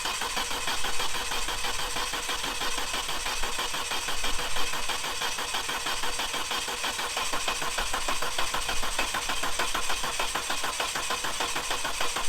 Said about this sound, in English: the car is now complete and the engine is running again